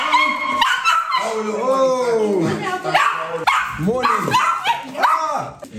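A 12-year-old dog barks and yips in bursts alongside a woman calling out loudly, the barks mixing with her voice through most of the stretch.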